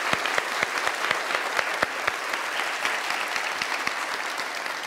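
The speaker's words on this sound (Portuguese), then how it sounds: "Uma salva de palmas pro croata de novo" Studio audience at a Brazilian TV music show applauds a Croatian guest, a dense, steady wash of clapping with sharp individual claps popping through for the whole stretch, no talk over it.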